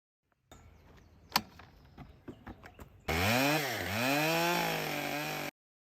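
A few knocks and clatters of wood being handled, then a chainsaw roars to life while milling a redwood tree into slabs, its loud engine pitch dipping and rising as it bites into the log before cutting off abruptly.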